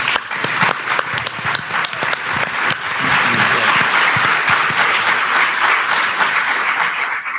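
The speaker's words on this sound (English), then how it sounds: "So I'm going to applaud on that one." An audience at a roundtable discussion breaks into applause, starting as scattered claps and swelling into dense, steady clapping that holds for several seconds before thinning out.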